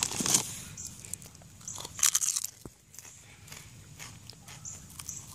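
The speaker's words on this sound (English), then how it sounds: "I'm gonna try one of these chips." Potato chips crunch loudly in bursts as someone bites and chews them at a picnic, with sharp crackling bites near the start and middle and quieter chewing between, close to the mic.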